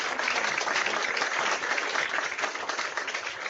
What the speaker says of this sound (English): join me in giving a warm round of applause